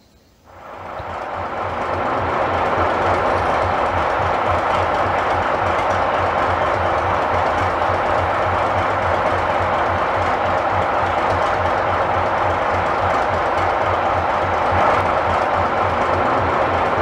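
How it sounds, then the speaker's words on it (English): A diesel excursion train engine, running around the train, rumbles up from quiet and settles into a loud, steady drone with a low mechanical throb, running on without pause. "You'll get to see the engine run around the train and then connect to the opposite"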